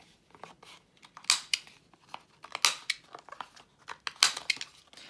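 Scissors trimming law book pages for craft bases, a string of crisp close snips and paper crunches in short irregular bursts, with soft rustling between cuts.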